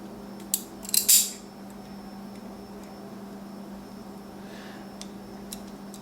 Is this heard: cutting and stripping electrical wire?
yes